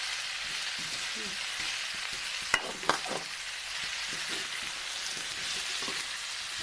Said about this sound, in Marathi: त्याच्यामुळं पहिला आपण ह्याला मस्त परतून घ्यायचं तेलामध्ये